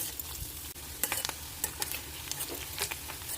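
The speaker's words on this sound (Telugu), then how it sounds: "ఈ ఉల్లిపాయ ముక్కలు ఒకసారి కొద్దిగా రంగు మారే వరకు వేగించుకుంటే సరిపోతుంది." Onion pieces fry in hot oil for an aloo masala dosa filling, cooking until lightly colored: a steady close sizzle with scattered crackles and pops, and no voices.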